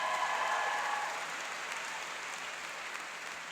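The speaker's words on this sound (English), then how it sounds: "Let's give a round of applause to one of the best deans on campus, Dean Ed Kelly." A crowd at a college convocation applauds steadily, the clapping dense and even, gradually easing slightly in loudness.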